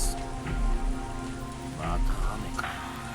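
Heavy rain pours down steadily in a steady wash of drops, with a low layered musical drone underneath in the Rebellions video game.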